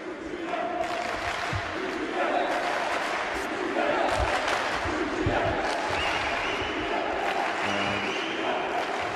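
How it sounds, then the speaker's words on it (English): A home crowd in Turkey roars and chants in support of a Turkish boxer at a 2012 European Olympic qualifying semi-final at light flyweight. The loud, continuous cheering carries rising chanted voices and scattered applause. "As Turkey being the home team here, you can hear the crowd with their full support."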